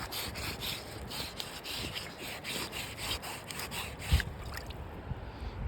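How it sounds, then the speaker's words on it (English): A found blob-top glass bottle rubbed against pants on a kayaking trip, a steady rhythmic scraping and rubbing in repeated strokes, close and fairly quiet, with one sharp knock near the end. "See if I can rub it on my"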